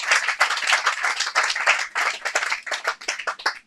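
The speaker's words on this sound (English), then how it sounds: "Please give a big round of applause for your host today" Applause from a garden-event audience welcoming the host, a moderate crowd clapping in uneven bursts that swell and dip, fairly close and without talk.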